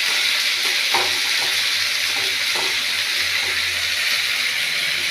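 Tomatoes and masala frying in a pan, a steady broadband sizzle that fills the whole clip, with a few soft stirring scrapes and knocks near the start.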